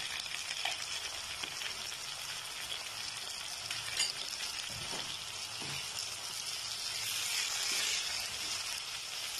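Button mushrooms cooking in butter with garlic and a couple of spoonfuls of chilli sauce fry in a pan with a steady, dense sizzle, broken by occasional clicks and scrapes of stirring, with no voices.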